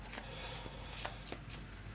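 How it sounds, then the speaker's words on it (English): A deck of tarot cards being shuffled by hand during a horoscope reading, a soft steady riffling with a few sharper flicks, close and quiet, no talk. "Let me aim this down a little so you can see more of the card shuffling."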